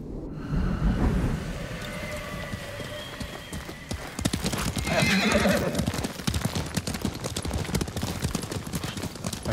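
Horse galloping in the samurai video game Ghost of Tsushima, opening with a whinny and then a dense, steady drum of hooves under wind, loud and close throughout.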